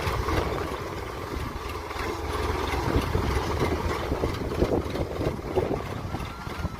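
A tractor engine idles in a cotton field, giving a steady, continuous low rumble at moderate loudness throughout, with no break in the drone.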